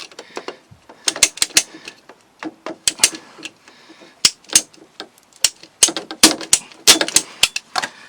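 An old, brittle plumbing pipe being cut during a repair, heard as a close, irregular run of sharp clicks and snaps that come in quick clusters with brief pauses between them.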